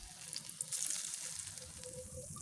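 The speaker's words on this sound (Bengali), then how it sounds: "অল্প আছে ভেজে নিচ্ছি।" Piyaju, fritters of onion, potato and peas, fry in hot oil with a soft, steady sizzle heard close and alone, with no talk.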